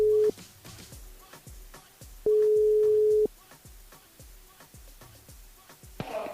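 Outgoing call on a French-language live radio broadcast: long steady ringback tones sound down the telephone line twice, separated by a pause, with faint low rhythmic pulses and clicks underneath and a short burst of noise as the line picks up.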